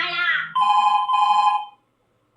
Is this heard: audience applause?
no